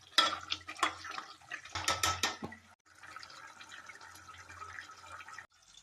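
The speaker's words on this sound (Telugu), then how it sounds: "ఇలా మధ్యలో మధ్యలో చూసుకుంటూ కలుపుకుంటూ ఉండాలండి అడుగంటకుండా." A spoon stirs chicken curry in a pot, with a quick run of metallic clanks and scrapes at the start, then a softer, steady bubbling and shuffling that continues up close at low volume.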